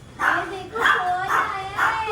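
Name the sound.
dog barking at arriving people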